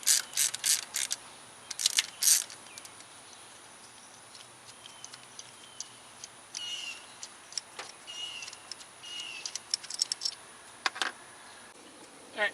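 A ratchet loosens the single 10mm coil pack bolts on a 2004 Pontiac Vibe, with rapid clicking bursts early on and then scattered, intermittent clicks over a steady low background hum.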